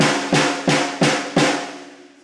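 Snare drum struck five times at an even pace, close and loud. Each hit leaves a long ringing, echo-like resonance from the snare wires that fades out after the last stroke.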